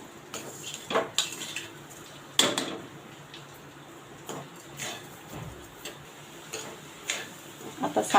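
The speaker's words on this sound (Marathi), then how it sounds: "साखर विरघळेपर्यंत आपण हे चांगलं मिक्स करून घेणार आहोत सतत परतत राहायचं आहे" Grated fresh coconut and sugar being stirred in a pan for coconut barfi, intermittent spoon scrapes and metallic clinks against the pan at irregular intervals, close but fairly quiet, with no speech.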